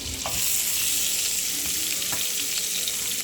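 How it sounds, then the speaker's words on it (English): Loud, steady sizzling of chopped peppers frying in hot fat, with a few soft stirring scrapes and no voices. "Chopped up the peppers, so I'm gonna start putting them in."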